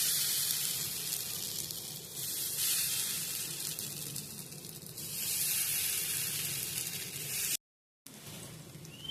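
Raw plantain pieces slipped one at a time into hot oil, a steady close hissing sizzle with soft crackle that swells and eases, then cuts out briefly near the end.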